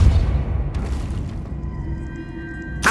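Depulso force-push spell cast in Hogwarts Legacy, a booming low thump at the start that fades into a sustained magical hum, with a brighter burst near the end.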